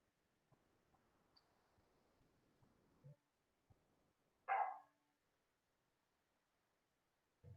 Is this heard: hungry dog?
yes